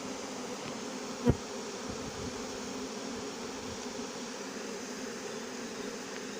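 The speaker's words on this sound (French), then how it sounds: "Je mets le carton au contact du paquet d'abeilles pour qu'elle monte dans le carton" A honeybee swarm climbs from a branch into a cardboard box during a swarm capture with smoke at Villabé, giving a steady, dense buzzing hum throughout, broken once by a single sharp knock.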